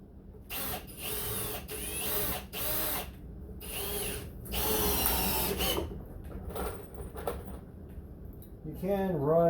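A power drill runs in repeated bursts, driving screws into a wooden ski stand, its motor whining up and down between pauses, while a person talks over it.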